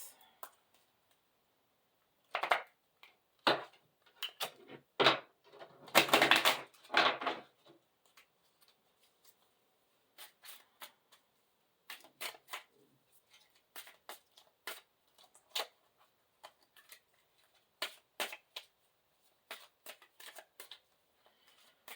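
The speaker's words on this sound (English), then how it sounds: "We'll take out 4 cards." Tarot cards shuffled and drawn one at a time from a deck: a burst of dense riffling and shuffling near the start, followed by sparse, soft snaps and slides of individual cards in a quiet room.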